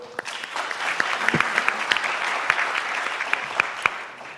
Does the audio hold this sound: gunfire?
no